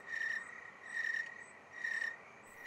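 A tree cricket trills in three long, pulsing bursts separated by short pauses, a steady high-pitched song close by with no other sounds.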